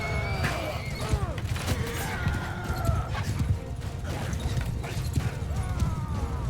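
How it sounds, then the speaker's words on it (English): A horse in the medieval battle game Mount & Blade II Bannerlord, with galloping hoof thuds and whinnies amid a busy, loud battlefield din of clashing and shouting. "a horse took off running in this direction"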